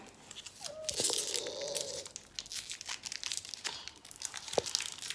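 Haribo gummy candy packet being torn open: a sharp rip followed by dense plastic crinkling and a few crisp crackles, close and fairly loud, with no talking.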